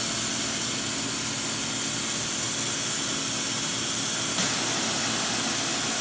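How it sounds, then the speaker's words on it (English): A robot's air nozzle blasts coolant off a freshly CNC-machined part inside the machine during automated tending, a steady loud hiss of compressed air running continuously throughout with a slight shift near the end. "So it's going to go in and blow off this part"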